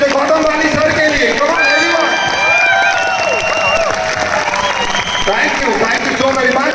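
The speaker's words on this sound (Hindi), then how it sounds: "एक बार जोरदार तालियां हमारे मैनेजिंग डायरेक्टर मिस्टर गौतम वाली सर के लिए" A crowd applauding loudly for a company's managing director at an indoor gathering, dense clapping mixed with cheering, chatter and background music tones.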